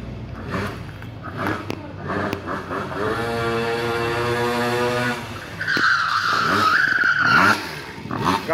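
A Mobylette moped is held in place while its rear tire spins and squeals, first revving with rising engine whine, then breaking into a loud, shrill screech close by; no talking.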